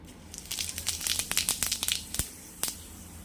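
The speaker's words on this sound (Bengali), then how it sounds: "তেলটা পুরো গরম হয়ে গেছে এইবার দিয়ে দেবো জিরে ফোড়ন" Cumin seeds and bay leaf dropped into fully heated oil for tempering, giving a run of sharp crackles and spits that rise to a dense burst, then scatter into a few separate pops near the end.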